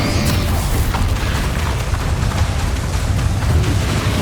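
Bombarda blasting spell explosion in Hogwarts Legacy, a loud, dense, sustained rumbling blast that fills the whole few seconds without any talk.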